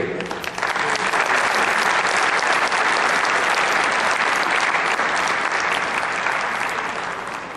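Warm, dense applause fills a lecture room at a talk on integrative approaches to diabetes, rising almost at once and staying full and steady before easing slightly near the end.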